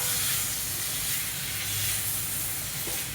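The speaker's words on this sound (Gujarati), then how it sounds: "ટામેટું ઉમેર્યા પછી મેં એને 5 મિનિટ માટે આ રીતે સાતળ્યું છે" Tomato and onion sautéing in a pan give a steady, close sizzling hiss that runs evenly throughout with no talk.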